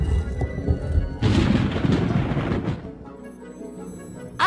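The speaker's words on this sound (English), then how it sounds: "The magician closed the stone door." A heavy stone door slams shut in a magician's cave, giving one deep booming crash with a rumbling decay that fades slowly, heard alone with no talking.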